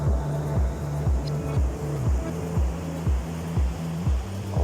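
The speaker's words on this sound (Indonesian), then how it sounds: "Ombak lumayan tinggi." High waves at Jebring beach, with murky water and a strong current, roar steadily and loudly, broken by a rhythmic repeating pulse roughly every second, with no voices.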